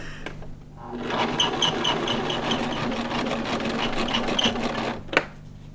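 Sewing machine stitching upcycled jeans, a continuous fast mechanical whirring hum up close, stopping near the end with a sharp click.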